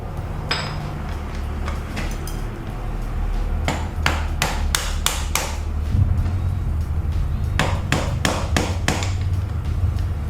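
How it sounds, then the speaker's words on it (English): Metal hammer blows knock out a front wheel bearing, landing in quick bursts of several sharp, loud strikes separated by pauses, over a low steady workshop hum. "we'll need to hit it with the hammer."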